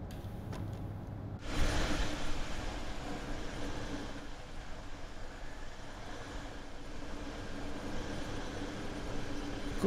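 Train running in the Train Sim World 2 video game, a steady broadband rumble of wheels and motor that starts abruptly after a quiet opening and continues evenly at moderate loudness, with no talking.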